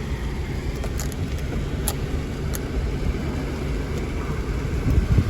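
Steady road and engine rumble from inside a car towing a stranded Subaru Impreza 2.5i with a faulty manual transmission, a continuous broadband drone with no talk.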